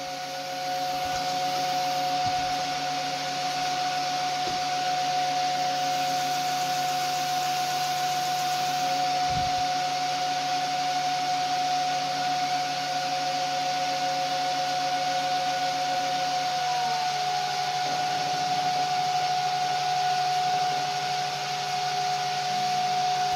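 Steady whine of an electric motor on a hyper drive controller, held under brake load with strong torque, running continuously with a drop in pitch and a few brief clicks; no voices.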